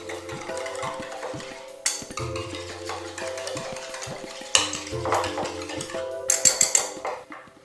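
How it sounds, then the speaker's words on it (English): Ingredients are whisked in a bowl with a steady rhythmic scraping and tapping of the whisk against the sides, with a few sharper knocks and clinks near the end and a low background hum. "give that a good whisk"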